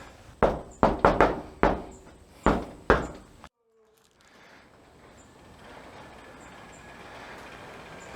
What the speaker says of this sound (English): let's knock on this door right here and we'll see who answers